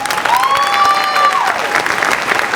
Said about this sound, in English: Big round of applause to them all.